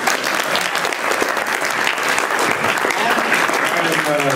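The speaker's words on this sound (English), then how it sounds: "big round of applause for me" Sustained audience applause and clapping fills a comic convention panel room, loud, dense and continuous throughout, with some crowd noise mixed in.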